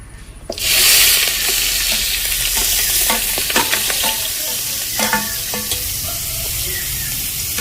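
Onion and green chili frying in oil in a pan, a loud hiss bursting in as they hit the fat, then a steady sizzle with repeated scraping and clinking of a spoon stirring.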